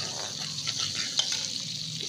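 Whole cumin seeds frying in a pan give a steady close sizzle with a couple of small clicks over about two seconds.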